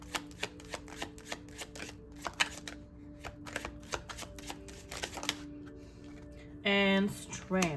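Tarot cards being shuffled at a reading, a run of soft papery riffles and taps repeating at an uneven pace, close and fairly quiet, with a brief louder flutter near the end.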